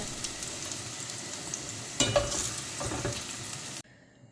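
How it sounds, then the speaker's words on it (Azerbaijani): Eggplant slices frying in oil in a pan give a faint steady sizzle with a few scraping stirs near the middle, cutting off abruptly at the end. "Və digər badımcanlar da qızarıb, onları da yığıram tavanın içərisinə."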